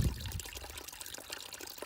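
Mountain spring water trickles and pours steadily in the Mt. Rogers high country, a close, continuous gurgling flow from a natural outlet, with no talking.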